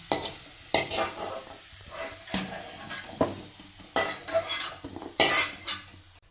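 Ginger pieces frying in a pan, stirred with a metal spoon that scrapes and clinks against the pan in irregular strokes over a steady close sizzle.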